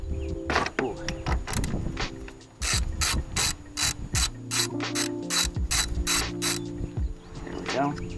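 A ratchet wrench loosens a battery terminal bolt on a 2007 Saturn Relay. It gives rapid bursts of close, sharp clicking in repeated strokes, with short pauses between runs.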